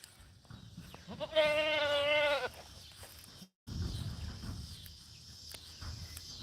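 An old goat on a chicken farm gives one loud, wavering bleat close by, followed by quieter rustling and faint crickets in the background.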